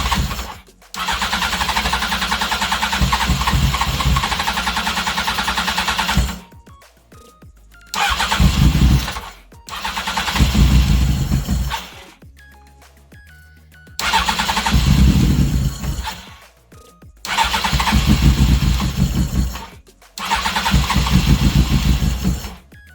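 Honda CBR900 streetfighter motorcycle engine cranking and catching in repeated loud bursts, each a few seconds of rough running or revving separated by brief silences, close up with no tank fitted.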